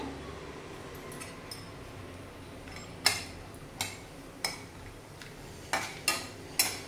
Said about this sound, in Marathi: तर हे पहिला आपण तेलातून फ्राय करून घेऊया